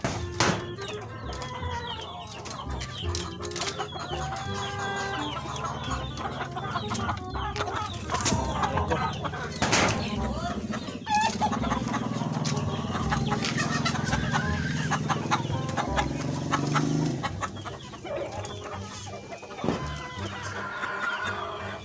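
Four-month-old stag roosters from one brood cluck busily while being fed on a farm, a dense, continuous chorus of overlapping calls that runs close and steady throughout.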